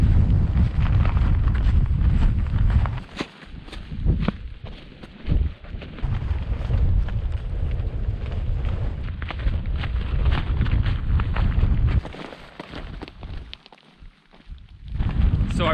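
Heavy wind roars and buffets the microphone almost without break during a solo hike over the Yorkshire Three Peaks in wind and rain, easing briefly near the end.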